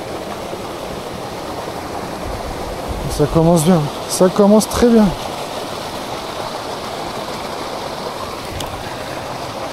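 Steady broadband rush of a waterfall or fast stream along a hillside trail to a cascade in the volcanic Cézallier uplands, continuous throughout with a person speaking briefly in the middle.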